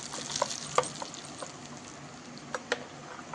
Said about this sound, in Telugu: కొంచెం నూనె వేడెక్కాక ఆవాలు, కరివేపాకు.